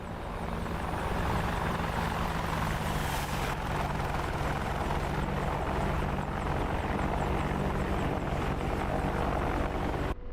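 AI-piloted helicopters in the DCS flight simulator give off a steady, droning rotor and engine roar with a fast blade chop, holding constant for about ten seconds with no talk.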